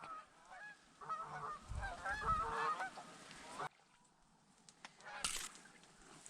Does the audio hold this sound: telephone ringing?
no